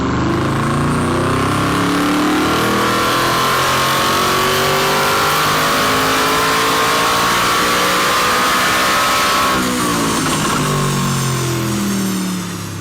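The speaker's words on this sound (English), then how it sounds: "we've also installed BMC air filters on Shmee's SLS Blackseries" Mercedes SLS Black Series V8 fitted with BMC air filters, revving loud and close in a long sustained climb with rising pitch, then easing back toward the end.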